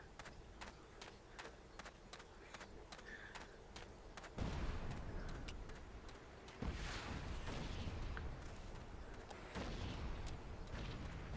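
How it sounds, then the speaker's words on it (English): Explosions in the Battlefield Vietnam video game: scattered sharp gunshots at first, then a series of heavy booming blasts that hit about every two to three seconds, loud and close. "there's far too many explosions that way"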